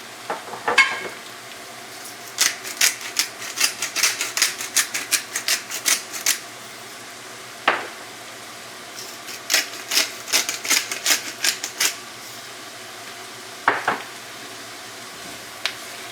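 Thanksgiving stuffing ingredients cook uncovered over medium heat in a pan while being stirred, with bursts of rapid scraping and clicking strokes separated by pauses over a faint steady sizzle.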